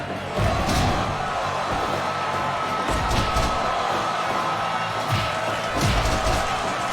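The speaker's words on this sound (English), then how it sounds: "Smattering of applause." A crowd cheers and claps continuously in a busy wrestling arena atmosphere in the video game Fire Pro Wrestling World, with occasional thuds and slams cutting through the steady roar.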